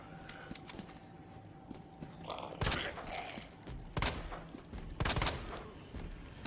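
Gunshots ring out in the Resident Evil 2 remake, a few sharp loud reports spaced about a second apart over a low game ambience.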